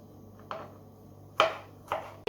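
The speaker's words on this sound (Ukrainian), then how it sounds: "Далі так само соломкою потрібно нарізати огірочок." A knife slices a cucumber into thin julienne strips on a cutting board, giving a few separate crisp chopping strikes with quiet gaps between them, close and clear with no talking.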